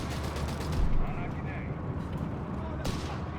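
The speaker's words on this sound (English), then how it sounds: "machine gun keeping the southern victory point free of British intervention" Machine gun fire in the video game Company of Heroes 3, rapid repeated shots holding a victory point against British forces, heard mid-distance amid rumbling battle noise with a commentator talking over it.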